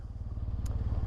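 A Triumph Bonneville SE motorcycle with a hole in its exhaust rides through traffic, its engine producing a steady low rhythmic thrum and pulsing exhaust beat, close and continuous, with a brief higher clatter midway.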